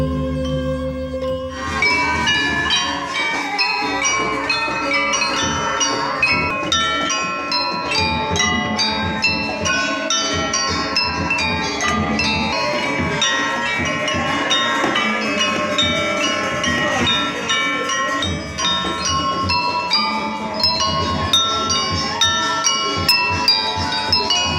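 Genta, the hand bell of a Balinese priest, rings continuously at a temple ceremony, a dense, steady metallic jingle that goes on throughout with no pauses.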